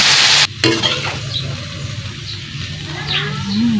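Adobong labong, bamboo shoots in adobo sauce, sizzles in a pan with a loud steady frying hiss and close stirring scrapes; a brief high hiss burst opens, then a continuous crackle runs throughout.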